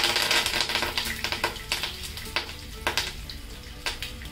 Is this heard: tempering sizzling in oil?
yes